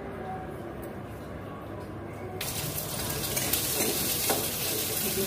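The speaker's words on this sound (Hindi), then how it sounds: "देखिए प्याज डाल दिए" Onions sizzle in a hot pan for kofta curry, a steady frying hiss that jumps louder midway as the onions go in, with faint stirring and no talk.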